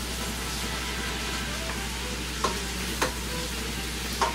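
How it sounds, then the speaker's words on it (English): Mixed green, yellow, orange and red bell peppers sizzle steadily in a pan while being sautéed, with a few sharp scrapes and clacks of a utensil as they are stirred, close and continuous. "We wanna give it a stir."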